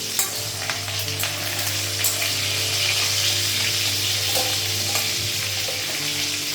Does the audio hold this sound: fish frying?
yes